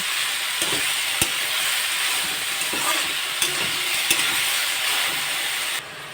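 Banana flower fries in hot oil with turmeric and salt, a loud continuous sizzle broken by occasional scraping stirs and clinks of a spatula against the pan.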